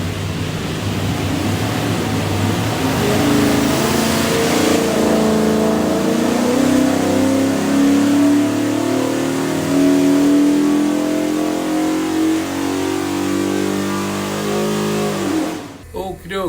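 Holley EFI 347 stroker V8 built for a '67 Mustang, revving on a dyno in one long, loud pull whose pitch climbs steadily before cutting off sharply near the end.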